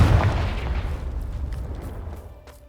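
A Confringo blasting spell in Hogwarts Legacy bursts with a loud, deep boom at the start, then rumbles and decays over a couple of seconds with faint crackles trailing off.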